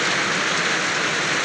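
Steady heavy rain pours down with gusting wind, a dense continuous hiss with no voices.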